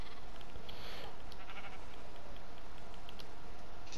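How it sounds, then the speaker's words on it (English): A sheep in the Minecraft video game bleats a few times over a dense, constant background of game noise, its calls fairly loud near the start and fading into the mix afterward. "There it is, rainbow sheep."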